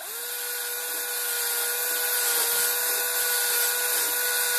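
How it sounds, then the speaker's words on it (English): A drill-driven hone working inside the cylinder of a Massey Ferguson 590 tractor's trailer-brake air compressor during a rebuild, giving a continuous high-pitched whirring and scraping grind that stays loud and steady throughout. "hone the cylinder."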